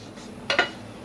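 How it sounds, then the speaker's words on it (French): A wooden spoon scrapes twice against a saucepan holding pasta and tomato sauce, two quick close knocks in a quiet kitchen. "On va bien nettoyer la casserole comme ceci avec la cuillère en bois"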